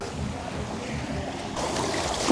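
Ocean waves wash onto a beach in a continuous broad rush with wind noise on the microphone, swelling louder toward the end.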